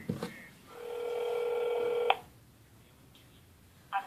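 A telephone dials out, giving a long steady electronic tone of about a second and a half followed by a brief beep, clear and close with no talking.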